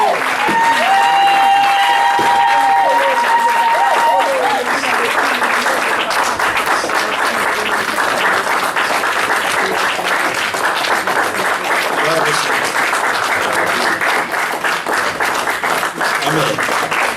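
Church congregation clapping loudly and steadily at full volume, with cheering and some voices mixed into the crowd, a brief tone sounding near the start.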